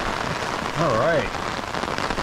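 Steady rain falls on a wet Sunday around parked cabover semi trucks, a Ford and a Kenworth K100, making a soft continuous patter; a voice speaks briefly partway through.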